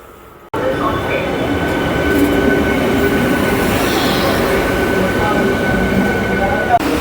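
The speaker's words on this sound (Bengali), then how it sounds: "এই যে তারকেশ্বর হাওড়া লোকাল আসছে 1 নম্বর প্ল্যাটফর্মে।" Tarakeswar–Howrah local train rolling into platform 1 at a Bengal railway station, a loud continuous rumble of wheels and carriages rising after a sudden onset, with a faint squeal and a sharp clank near the end.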